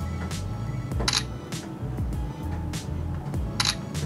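Shutter of an OPPO A3S phone camera firing, with two crisp bright clicks spaced a few seconds apart, close and fairly loud over a steady low background hum.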